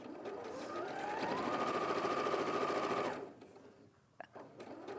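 A sewing machine stitches French terry fabric in a fast, steady whirring run of about three seconds, then stops and leaves quiet room sound with a faint clack.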